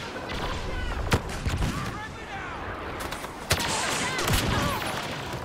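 Blaster gunfire from a Star Wars Battlefront match crackles in dense overlapping volleys with a few sharp louder shots, ongoing and busy, while a voice talks faintly beneath.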